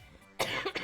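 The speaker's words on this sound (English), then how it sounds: "Someday I will not have a cough anymore" One person coughs close to the microphone in a quick cluster of two or three harsh bursts after a brief quiet moment.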